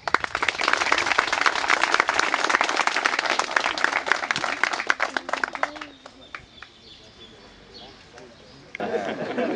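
Outdoor crowd applause at a groundbreaking ceremony for a rural health post: brisk, crackling clapping for about six seconds that thins to scattered claps, followed by chatter and birdsong.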